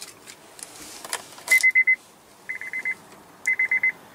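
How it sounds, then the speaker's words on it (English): A 2015 Honda Pilot's warning chime sounds close and clear inside the cabin: three quick bursts of rapid, evenly spaced electronic beeps, separated by short pauses, over faint background rustling. "And you still have that old Honda chime."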